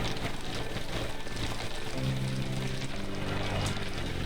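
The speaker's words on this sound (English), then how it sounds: "Out of the rain, Mr. Watson?" Steady rain pattering in the Sherlock Holmes The Awakened video game, a dense continuous hiss of drops on surfaces with a low rumbling undertone, with no talk over it.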